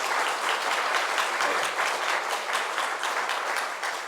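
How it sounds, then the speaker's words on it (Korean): A church congregation applauds during a Korean worship service, a full, even burst of many hands clapping that holds steady throughout with no voices over it. "우리 수고하신 모든 분들을 위해서 박수로 축복하겠습니다."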